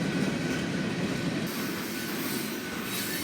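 A freight train of hopper cars rolls steadily past close by, a continuous loud rumble of wheels on rail with faint squealing and no voices.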